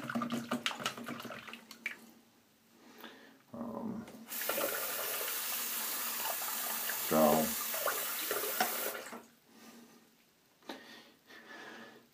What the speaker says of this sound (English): Let me rinse these off.